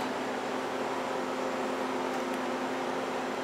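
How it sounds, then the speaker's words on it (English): A freeze dryer's vacuum pump runs just after being switched on, giving a steady, faint mechanical hum with a constant tonal drone and no change in level for the whole span. "It says then toggle the vacuum to on by pressing the on off."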